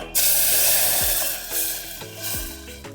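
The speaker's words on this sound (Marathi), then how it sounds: "इकडं मस्त पातेल्यामध्ये मी तेल गरम करून घेतलेलं आहे। गॅस बारीक करायचा आणि आता आपल्याला ते पेस्ट टाकायची त्याच्यामध्ये।" Masala paste drops into hot oil in a pan for Kolhapuri tambda pandhra rassa, setting off a sudden loud sizzle that fades and swells with stirring, over a low hum.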